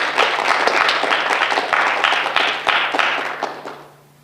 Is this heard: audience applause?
yes